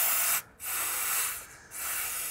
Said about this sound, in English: we can come back with a little bit of brake clean and just wash this surface off